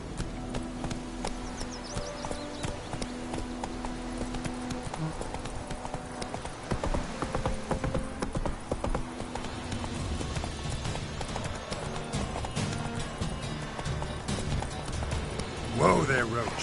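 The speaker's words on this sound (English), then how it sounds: "Whoa there, Roach" Hoofbeats of a horse galloping in a PS4 video game, a steady clip-clop rhythm running throughout under game music and effects, with a brief louder burst near the end.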